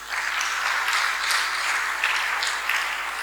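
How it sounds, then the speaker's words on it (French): A lecture audience gives soft, steady applause, a thin and even patter of many hands that holds at a moderate level, with no voices over it. "Les applaudissements ne sont pas très nourris"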